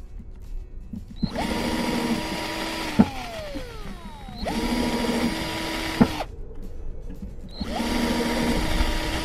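A power drill drills holes through a wooden hinge on a top bar swarm box for bees, whining at a high pitch. Three separate bursts each last about two seconds, with short quiet gaps and the motor spinning up and down close by.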